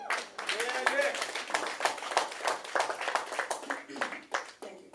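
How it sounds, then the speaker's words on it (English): An audience claps in a fast, irregular patter that runs through the whole stretch, mixed with voices and sounding near and fairly loud. "You can clap."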